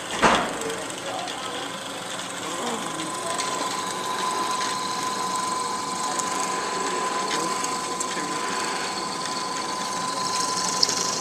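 Power drill boring a hole through the body of a school bus being built into a hot rod, a steady whining drone held throughout with a sharp start at the beginning and a voice talking faintly beneath.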